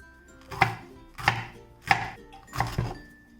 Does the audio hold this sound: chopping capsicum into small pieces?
yes